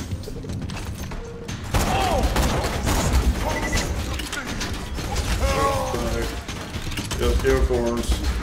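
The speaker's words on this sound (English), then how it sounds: "I'm gonna assassinate Oni with a rifle." Rifle gunfire in Borderlands 2, rapid game shots and mechanical clanks mixed with game effects, with a player talking over parts of the action.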